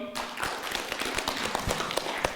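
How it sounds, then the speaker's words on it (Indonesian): An audience claps hands in a talk or seminar setting, a loose run of scattered claps lasting a couple of seconds, fairly close and without speech over it. "Tepuk tangan dong."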